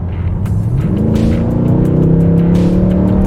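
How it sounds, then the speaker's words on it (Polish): A Mercedes C63 AMG 507 Edition engine revs hard and climbs in pitch as it accelerates, loud and close, with a deep throaty growl throughout. "jak dodajesz tego gazu jest taka symfonia pięknych dźwięków"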